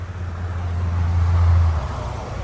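A car's engine idles with a steady low rumble at close range, swelling slightly in the middle before easing back, with no talk over it.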